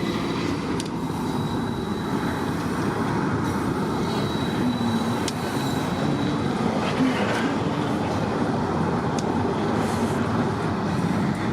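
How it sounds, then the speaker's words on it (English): A freight train with a locomotive up front and a mid-train DPU rolls past nearby on a cold morning in Pennsylvania, giving a steady loud rumble of wagons with faint wheel squeals and a few sharp clanks. "So one engine up front, and he should have a DPU in the middle"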